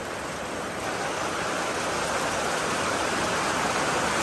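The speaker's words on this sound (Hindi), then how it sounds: "अभी तो और जोर से हो गया बारिश देखो।" Heavy rain pours down in Darjeeling, a steady, loud, unbroken wash of hiss that stays even throughout, with no voices.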